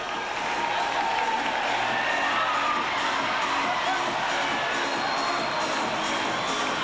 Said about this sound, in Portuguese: Muito aplaudindo aí a candidata de agrimensura, Ana Emília.